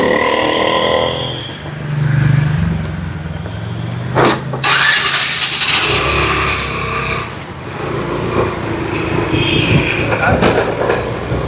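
A vehicle engine starts and settles into a loud, close idle with low rumbling and a sharp transient midway, steady throughout with no speech over it.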